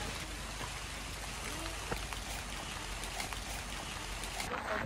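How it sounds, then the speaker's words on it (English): Steady rain falls on a walk up a hill in Pai, northern Thailand, a dense, even hiss of drops on surfaces that holds at the same level throughout, with faint voices in the background. "In the rain."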